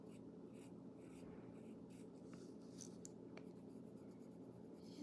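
A pencil softly shades a giraffe drawing, giving a steady, faint scratching on paper that carries on throughout, close and quiet with no talk.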